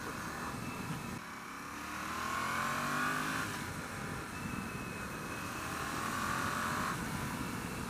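Yamaha MT-07 Tracer motorcycle engine droning and revving steadily while riding bumpy country roads, with rising and falling pitch sweeps as gears change, wind noise throughout and no talk.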